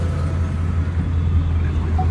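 A rear-wheel-drive car pulls away with a steady, loud low engine rumble and road noise throughout, with no voices.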